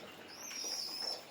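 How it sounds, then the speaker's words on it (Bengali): Domestic pigeons kept alongside a pair of cockatiels coo and call softly at midday, a steady, moderately close murmur lasting about a second with a thin high tone running through it. "এইখানে আমার আবার কিছু কবুতর আছে, এই এক জোড়া ককাটেল আছে,"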